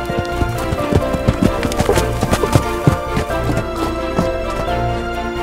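A horse walks at an even pace, its hooves clip-clopping in a steady, close rhythm over a continuous musical backdrop.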